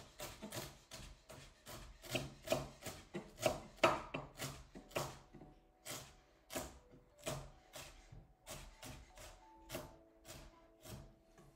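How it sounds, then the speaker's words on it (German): Knife chopping ginger on a board for homemade ramen, a steady run of crisp close taps, about two per second, alone with no talk. "jetzt wie gesagt gehackt, einigermaßen ordentlich gehackter Ingwer"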